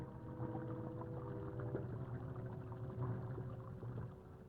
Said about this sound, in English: Even today, the slap of paddle wheels can be heard over the broad waters of the river.